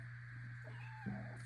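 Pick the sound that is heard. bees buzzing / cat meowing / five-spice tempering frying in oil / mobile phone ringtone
cat meowing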